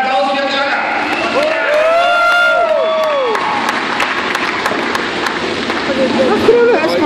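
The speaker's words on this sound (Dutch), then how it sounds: "Ein Applaus für Chaka" At an Oktoberfest show, a crowd applauds and cheers an acrobatics act performed on a 1928 machine. Loud clapping mixes with whooping, whistle-like voices near the start.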